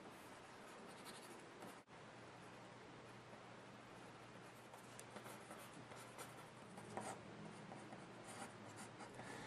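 Pencil scratches and rubs on paper while sketching storyboard drawings, a soft, close, continuous scribbling texture with small strokes and one brief bump, heard alone without talk.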